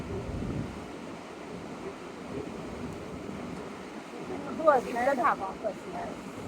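Wind gusts on the Konkan coast as a continuous, moderately loud rush with a swell of splashing near the end, while people's voices break in briefly.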